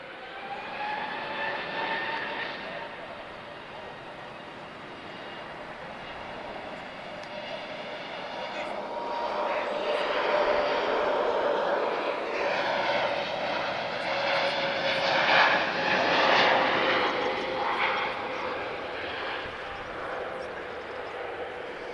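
A Lufthansa airliner at Lisbon Airport roars with its jet engines, a broad, steady rumble that swells louder through the middle and stays strong to the end.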